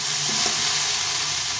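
Okra and onion frying in a pan with green chillies added, giving a steady, even sizzling hiss that holds at one level throughout, close and moderately loud.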